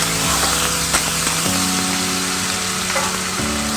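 A ginger and green chili paste with cumin powder is sautéed in a pan, producing a loud, dense close sizzle with a few sharp stirring scrapes and knocks.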